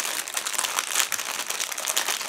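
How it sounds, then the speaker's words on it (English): Crinkly plastic bag being torn open and pulled apart by hand to free Miniart model kit sprues, a steady close crumpling and rustling for a couple of seconds with no talking. "it's just tearing out the second plastic bag"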